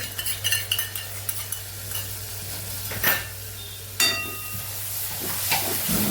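Vegetable khichdi with curd being stirred in a pot over a low flame: a spoon scrapes and clinks against the pot in short bursts over a faint sizzle and a steady low hum.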